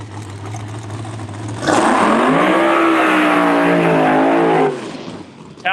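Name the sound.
Hart Racing drag race car launching at Empire Dragway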